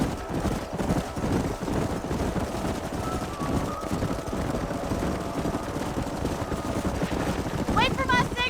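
Galloping horses in Red Dead Redemption, a canyon chase with hooves drumming in a fast, busy rhythm under people talking, with a brief whinny-like squeal near the end.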